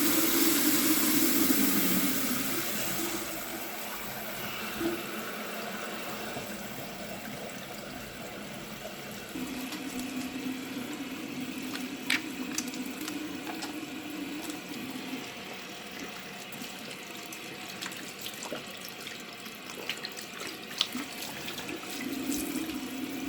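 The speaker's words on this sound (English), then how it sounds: "I wash my hands in lukewarm water thoroughly." Lukewarm tap water runs steadily into a sink while hands are washed thoroughly beneath it, a close, continuous splashing that is a little louder at first and then settles, with small clinks and no talking.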